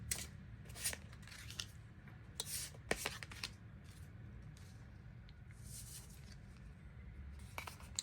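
Tarot cards being shuffled and drawn, with crisp riffles and soft slaps coming in short bursts over a steady low background hum.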